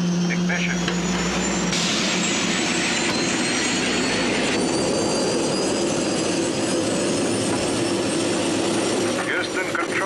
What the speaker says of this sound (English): Ready for ignition. Activating turbo starters.